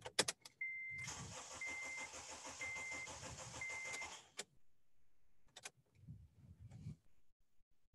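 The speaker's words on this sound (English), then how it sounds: "I will crank the engine over one more time to see how high the amperage goes up to" A car engine cranks over on its starter motor during a starter draw test, a loud sustained rhythmic churning for about three seconds before cutting off, with brief clicks and bumps before and after.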